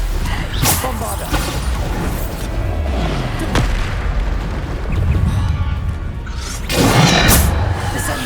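A Bombarda spell explodes in the Hogwarts Legacy video game, with loud booming blasts, whooshes and crashing debris over a continuous rumble of game effects.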